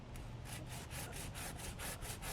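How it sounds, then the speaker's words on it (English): A hand saw cuts into the underside of a garden tree limb in steady back-and-forth rasping strokes, about nine even pulls in quick rhythm, close and clear with no talking. "I'm going to cut in about 1/4 inch on the bottom of this limb"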